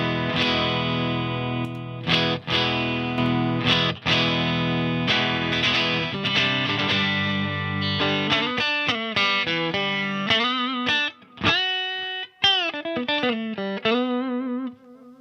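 Electric guitar played through a Marshall Origin 50 valve head with its boost engaged, first sustained distorted chords, then choppy staccato riffs and bent single notes, loud and saturated with no talking.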